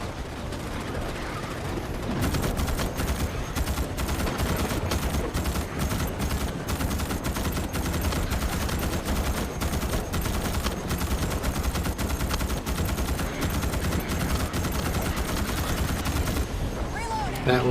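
Rapid automatic bursts from a Morita SAW in Starship Troopers Extermination, loud dense machine-gun fire running continuously for many seconds with a voice speaking over it.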